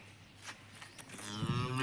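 One of a group of cattle lets out a single deep moo, close by, rising and growing louder toward the end.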